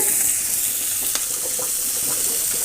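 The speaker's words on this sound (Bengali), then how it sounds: "মাছটা ভাজা হোক" Small fish sizzle and spit in hot oil, a steady close frying hiss with a few faint scraping stirs, no voices.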